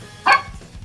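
A single sharp dog bark rings out once, fairly close, followed by quiet room noise.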